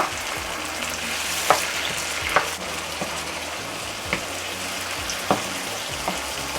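Fresh tomatoes frying with caramelized onions for Nigerian bitter leaf soup, a steady close sizzle under occasional soft stirring clicks and scrapes, no voices.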